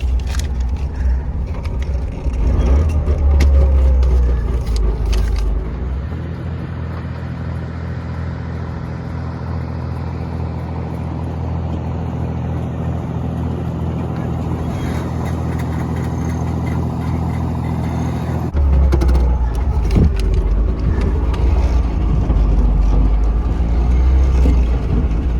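A Trabant car's small engine drones steadily from inside the cabin while it crosses the Danube in Hungary, with low rumbling swells at the start and end and a long, even hum in between.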